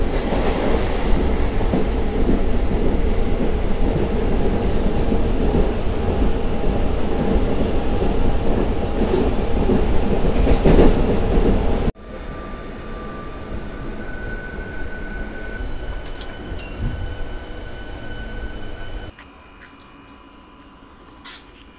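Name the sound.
Tirupati to Pondicherry MEMU Express train running on rails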